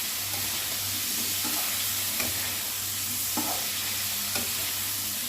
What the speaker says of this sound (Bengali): কোয়াশটা একটু ভাজা হোক, একদম ভাজা না, কিন্তু একটু ভাজা লাগবে।